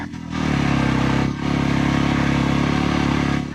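A motorcycle engine drones steadily and loudly on a highland ride from San Gabriel to Bagulin, with brief dips in power near the start and again after a second.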